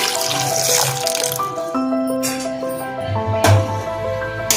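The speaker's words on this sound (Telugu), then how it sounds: "చింతకాయలు మునిగేంత వరకు నీళ్లు పోసుకొని" Water pours steadily into a pot of ten raw green tamarinds until they are submerged, a loud continuous rush with a rising tone as the vessel fills.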